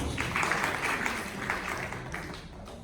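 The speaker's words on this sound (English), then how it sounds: "Big round of applause for them" Applause from a conference audience after a patient case presentation, a steady wash of clapping at moderate level that fades slightly toward the end.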